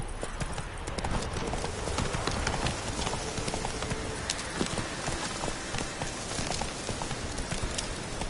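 Roach, Geralt's horse in The Witcher video game, galloping, a rapid steady run of close, loud hoofbeats clattering throughout.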